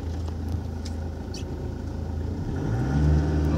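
A small remote-controlled toy car's electric motor whirs steadily nearby on a road, then rises in pitch and loudness as it revs up toward the end.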